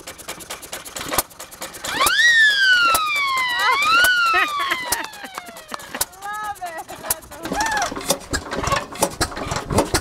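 An old mechanical bicycle siren driven by the wheel winds up into a loud wail that rises and falls in pitch over a few seconds, then fades into shorter chirps, with clicks and handling noise around it.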